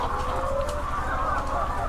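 Chickens cluck and squawk continuously, close and loud, as they are pulled from battery cages on a poultry farm.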